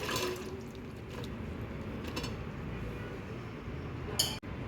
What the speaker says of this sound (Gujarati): હવે આપણે રીંગણા નિતારી લેશું.